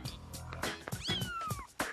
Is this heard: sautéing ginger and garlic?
no